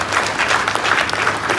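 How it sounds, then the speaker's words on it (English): Dense, steady applause from an audience at a government launch event in Ghana, loud and continuous throughout with no gaps, a broad wash of many hands clapping together. "give a big round of applause to the entire team"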